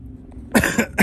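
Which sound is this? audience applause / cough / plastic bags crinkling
cough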